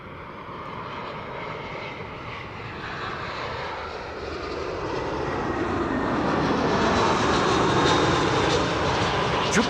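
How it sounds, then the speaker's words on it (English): A British Airways airliner arriving at Amsterdam Schiphol Airport roars steadily on a sunny day, its broad engine rumble growing gradually louder as it approaches, with no talking. "BA flight 432 arriving from London Heathrow."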